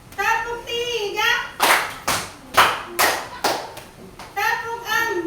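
Children in a classroom clap game chant together, with sharp bursts of group clapping landing between the chanted phrases, several distinct claps in an uneven rhythm, close and fairly loud.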